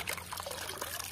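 Water trickles and pours while a toy is washed clean, a short, quiet splashing dribble with no talking.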